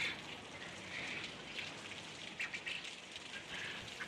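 Steady rain patters and hisses softly across surfaces at a migratory bird wetland, with a few closer drops tapping now and then; quiet and distant-sounding.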